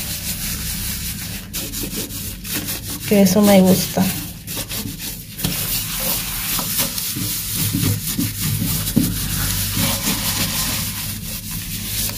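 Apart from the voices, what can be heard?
scrubbing a bathroom sink with a damp sponge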